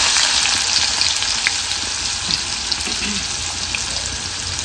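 Onion frying in a pan with cumin for paneer bhurji, a loud steady hiss of sizzling oil that softens slightly over a few seconds, close up and without talk.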